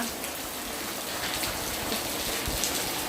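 Heavy rain pours steadily during the Ganesh Chaturthi festival, a dense continuous hiss of drops hitting surfaces, loud and unbroken throughout with no voices.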